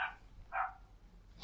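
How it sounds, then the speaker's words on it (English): A dog barks outdoors, two or three short bursts spread over a moment, moderately distant and fairly quiet against low background hum. "wait, is there a dog outside?"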